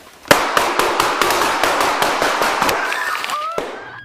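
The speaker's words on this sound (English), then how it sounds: "All three were struck by gunfire." A rapid, uneven burst of sharp police shootout gunfire inside a home, many shots in quick succession, loud and echoing, fading into a faint ringing tone at the end.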